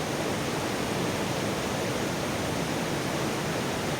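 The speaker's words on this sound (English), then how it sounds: "This water coming out of the ground right in the bushes over here." Cold spring water in Israel rushes out of the ground among bushes, making a steady, dense, close hiss of flowing water with no voices.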